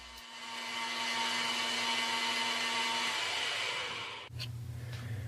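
A BDS MAB 485 SB magnetic drill with a 13/16 annular cutter boring a hole through steel, a loud steady high whine for about four seconds that cuts off, followed by the motor's lower hum.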